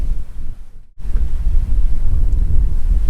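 Strong wind of about 18 knots buffets a microphone aboard a sailboat under way at sea, a steady loud low roar broken by one brief lull, with water and hull noise mixed in.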